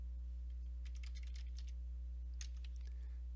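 Bursts of computer keyboard keystrokes clicking during a letter- and memo-writing task, in two short clusters of quick taps over a steady electrical hum, fairly faint and close.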